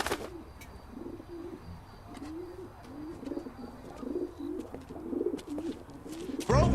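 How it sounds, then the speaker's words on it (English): Pigeons coo repeatedly in the L.A. Noire video game, a run of soft, rolling calls at moderate distance over a quiet background, ending with a sudden louder burst. "Who throws a fucking pigeon?"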